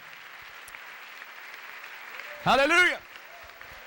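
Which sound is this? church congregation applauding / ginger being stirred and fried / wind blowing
church congregation applauding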